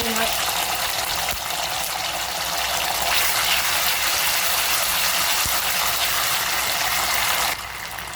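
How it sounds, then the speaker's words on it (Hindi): Curry leaves, ginger and garlic frying in a little hot oil, a steady broadband sizzle and crackle that holds for several seconds before easing slightly near the end. "अभी तेल डाले थोड़ा सा, अभी करी पत्ता डालेंगे, अदरक लहसुन डालेंगे।"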